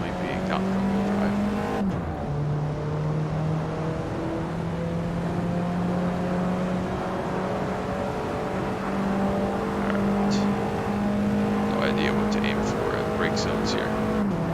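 An Alfa Romeo 4C engine drones steadily as it laps a track through chicanes in the racing game Assetto Corsa, with a gear change early on and the tone rising gradually, continuous and loud under a talking voice.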